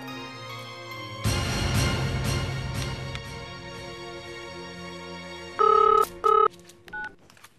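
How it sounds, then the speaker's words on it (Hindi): A home telephone rings loudly in a domestic scene, with a dense burst of ringing followed by shorter, louder electronic ring tones toward the end, and no talking. "मंशा को फोन करके देखो ना, वो घर से निकली कि नहीं।"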